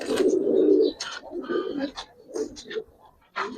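Giribaz and Pankhi pigeons coo close by in soft, throaty rolling calls, one long coo followed by shorter broken ones, with faint chirps and brief voices mixed in.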